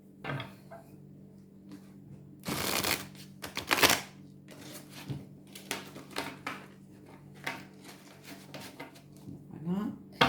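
Shiny, fairly thick oracle cards are shuffled, cut and spread out on a table, giving bursts of crisp flapping and slapping over a low background hum, while someone talks softly throughout.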